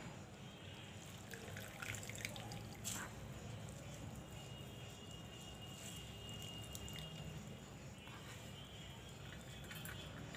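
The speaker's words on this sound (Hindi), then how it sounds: "इस मूली को आप दोनों हाथों से अच्छी तरह इसको निचोड़ के इसकी जितनी पानी है उसे निकालना होगा।" Water running and dripping as a soaked grated radish is squeezed by hand for radish kheer, a steady trickling wash with faint kitchen clinks, close and continuous.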